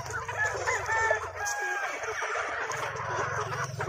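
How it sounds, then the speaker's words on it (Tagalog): On a farm in Argao, Cebu, hens and many chicks cluck busily while a rooster crows nearby. The calls overlap continuously at moderate loudness. "Mga ganito. Maraming sisiyo."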